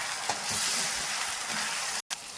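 Ginger garlic paste frying with onions and cashews gives a steady close sizzle with light stirring scrapes, then cuts off abruptly for an instant near the end before resuming, with no talk.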